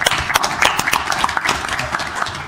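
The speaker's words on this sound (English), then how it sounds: "Give me a little round of applause" A small crowd at a city council meeting gives a brief round of applause, scattered individual claps ringing out fairly close and unevenly over a couple of seconds.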